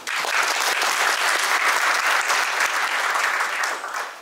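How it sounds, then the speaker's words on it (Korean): An audience at a Korean policy forum on fire safety self-inspection bursts into loud, dense, sustained applause, a steady wash of many hands clapping that holds for about four seconds before easing slightly at the end. "박수 한번 부탁드립니다"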